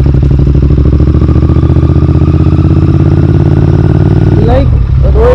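Close-up idle of a 2023 Royal Enfield Interceptor 650 twin motorcycle: a steady, deep exhaust thump with a mechanical beat, loud and even, a short rasp near the end.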